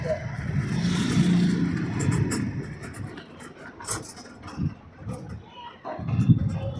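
A motorcycle modified for a handicapped rider runs with a loose engine rumble and uneven throttle changes, loudest at the start and end, while voices talk over it outdoors.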